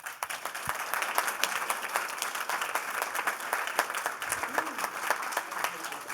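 An evening mayoral hustings audience claps in steady, sustained applause that fills the room throughout, with no voices on top.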